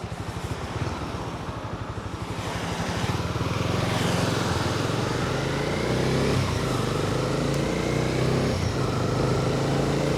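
Motorcycle ridden along a road in Portugal, a steady close engine drone with a rising rev partway through and continuous wind and road noise throughout.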